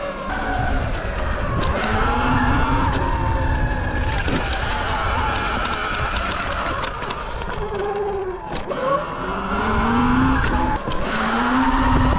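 Rear wheel of a Sur-Ron LBX electric dirt bike sliding, a continuous loud scraping hiss of tire on ground with a whining motor tone rising and falling, steady and close throughout.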